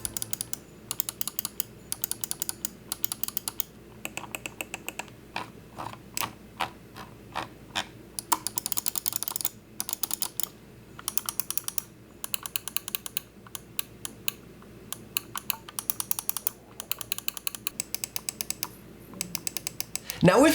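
Crisp button clicks from a Logitech G305 wireless gaming mouse come in quick, uneven bursts for about twenty seconds, close and dry, with brief pauses between clusters.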